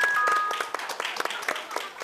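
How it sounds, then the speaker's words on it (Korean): A studio audience at a Korean TV awards show claps to welcome a camera director, a dense wash of applause that thins into scattered individual claps. "박두진 감독님 박수로 모시겠습니다."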